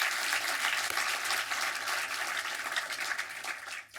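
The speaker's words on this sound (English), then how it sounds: "Please give them all a big round of applause." Steady applause from an audience at a film screening honoring a psychedelic-era musical group, a dense continuous wash of clapping that fades slightly at the end.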